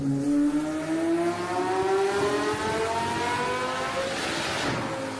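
A 2026 Shelby GT500 engine revs hard through a dyno pull, its pitch climbing steadily and loudly before breaking up slightly near the top, close and sustained with no talk.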